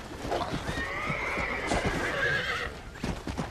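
Undead horse in the video game Red Dead Redemption: Undead Nightmare, a loud, rising whinny over rapid clip-clopping hooves and rough scuffling.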